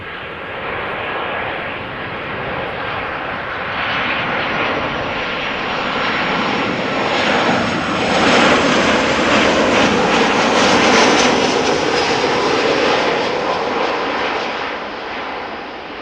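A Ryanair airliner lands at Amsterdam Schiphol Airport, its jet engines a loud, steady roar that builds and peaks midway before easing slightly, with a broad rushing whine and no talk.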